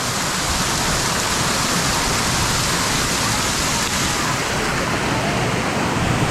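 Nissarana waterfall at Meethrigala pours in a constant dense, loud rush of splashing water, a steady broadband roar filling the whole scene without a break.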